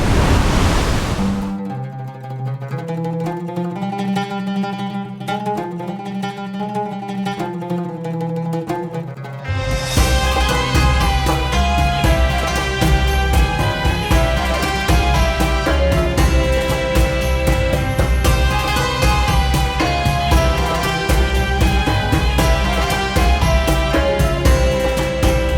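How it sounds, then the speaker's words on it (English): The Murchison Falls waterfall on the Nile roars as a dense, constant rush of water that grows louder partway through, with tonal music layered over it. "Murchison Falls is famously known as the most powerful waterfall in the world"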